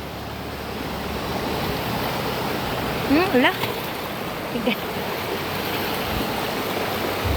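Broad, steady rushing of a strong river current at a crossing in rural Philippines fills the scene, with a voice briefly speaking and calling over the continuous water noise.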